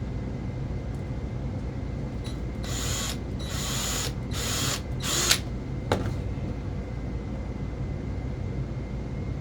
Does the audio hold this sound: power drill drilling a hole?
yes